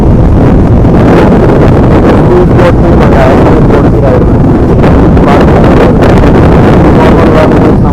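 Wind roars hard across the microphone during a fast speedboat ride on a lake in Udaipur, a constant loud rush with the engine and water buried underneath.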